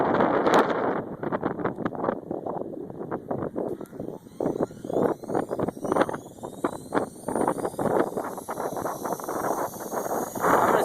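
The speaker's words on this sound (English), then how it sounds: "30-mile-an-hour winds with probably 40-mile-an-hour gusts." Strong gusting wind of about 30 miles an hour with 40-mile-an-hour gusts buffets the microphone outdoors in rapid, uneven roaring bursts, with a thin high whine running above it.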